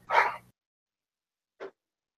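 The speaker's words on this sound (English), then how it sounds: "Hold on, I'm getting yelled at by an old dog." An old dog gives one short, loud bark up close, followed after a pause by a second, softer and briefer yelp.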